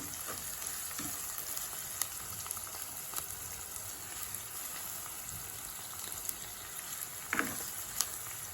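Chicken fries in a pan for a curry with a steady, crackling sizzle, constant and close, broken by a few sharp pops and stirring clinks.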